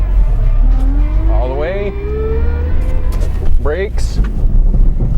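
A car reversing fast on winter snow and ice and whipping its front end around in a Rockford turn, engine droning steadily throughout with tire noise, while someone talks over it.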